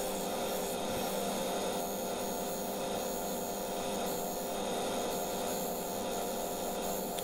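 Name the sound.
woodturning tool rounding off rim of sycamore bowl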